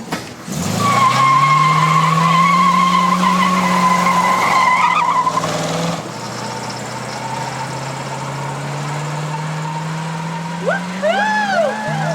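Car with a 401 engine, a mix between a Javelin and an AMX, revving hard and pulling away with loud, sustained tire squeal, then settling into a steadier engine drone with a brief squeal at the end.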